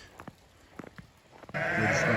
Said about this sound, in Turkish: şu anda koyunları çıkarttık kuzularıyla beraber dışarıya